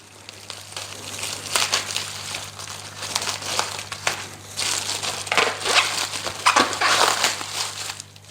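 Frozen pizza being unwrapped from its plastic and cardboard packaging, close crinkling and crushing of film in uneven bursts, louder in the middle and end, over a steady low hum, with no talk.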